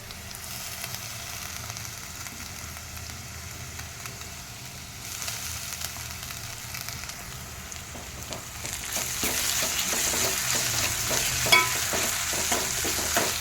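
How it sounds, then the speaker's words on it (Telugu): Fresh ginger garlic paste fries in a pan for a palak paneer curry, a steady close sizzle with stirring scrapes that grow louder and busier in the later half, no voices. "ఇప్పుడు ఫ్రెష్గా దంచుకున్నటువంటి అల్లం వెల్లుల్లి పేస్ట్ వేసుకుంటున్నానండి"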